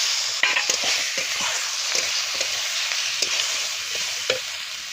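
Tomatoes and spices with chopped green chilli, chilli powder and coriander powder fry and sizzle steadily in a pan over a rural cooking fire, with repeated stirring scrapes and clinks throughout; no talking.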